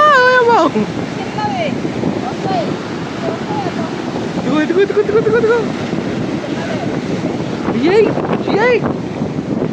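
Sea waves wash ashore at Vizag beach in a steady broadband roar, with wind buffeting the microphone and people's voices calling and talking over the surf.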